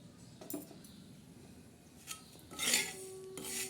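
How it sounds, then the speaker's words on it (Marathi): Niger seeds dry roasted over low heat and stirred in a pan, giving faint gritty scraping and a few light metallic clinks that grow a little busier toward the end. "हलवत राहायचे आणि मंद याच्यावर भाजायची"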